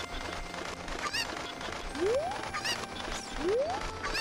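A chicken in The Legend of Zelda: Ocarina of Time gives two rising, squawking calls over a bed of game sound, close and moderately loud, spaced about a second and a half apart, with no talking.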